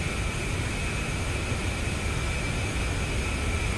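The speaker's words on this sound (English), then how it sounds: "as I've got some more aircraft out there taking off" Steady broadband jet roar from aircraft taking off in the DCS: A-10C Warthog flight simulator, a continuous even rush with a faint high whine running throughout, no voices.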